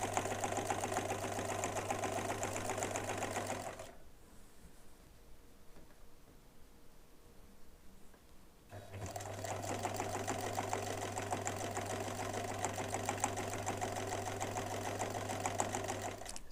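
Sewing machine stitching fabric binding along the edges of rainbow bunting pennants, running steadily and close for several seconds, pausing briefly, then resuming its fast even whir.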